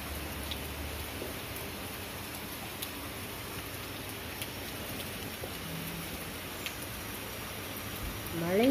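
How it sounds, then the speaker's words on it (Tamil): Light summer rain falls steadily outdoors, a soft even hiss of drops hitting the ground and plants, faint and continuous with a few sharper drips. "மழை தண்ணீர்"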